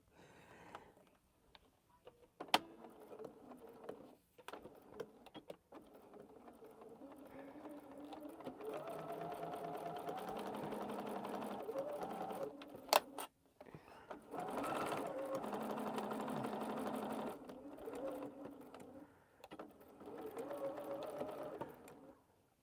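A sewing machine stitches fabric for a quilting project, running in several bursts of whirring, buzzing mechanism between short pauses and sharp clicks, fairly close, with a voice talking at times.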